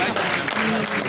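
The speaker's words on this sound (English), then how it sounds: "a round of applause for your chairman" An audience at a university induction ceremony claps for their chairman, a brief burst of dense applause with speech mixed in.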